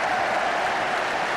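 A football crowd applauds at half-time of Arsenal v Ipswich in 1978, a dense, even wash of clapping from a large stadium audience with no break.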